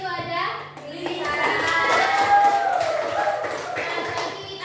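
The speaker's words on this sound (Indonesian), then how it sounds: "beri tepuk tangan untuk Rifa." A class of children applauds, scattered hand claps rising into a sustained patter under overlapping young voices and chatter, moderately close in a classroom.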